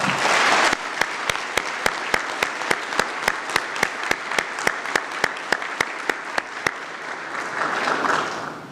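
Sustained crowd applause at a sheriff's office awards ceremony, with a steady, regular series of sharp clicks, likely camera shutters, running through it as the clapping swells again near the end.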